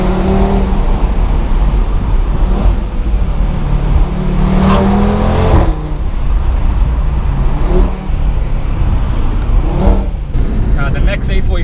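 Audi RS3 saloon engine revving loudly nearby with a rally-car-like rasp, rising and falling in several bursts, with a voice talking over it.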